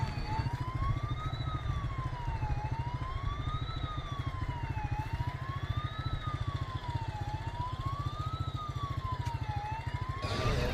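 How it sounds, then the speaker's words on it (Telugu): A security siren at a housing layout near a clubhouse wails continuously, sweeping up and down in a slow regular rise and fall, loud and close over a steady low rumble, with no talking. "నేను క్లబ్ హౌస్ దగ్గరికి వెళ్తుంటే ఇక్కడ సైరన్ ఎలా అవుతుందో చూడండి"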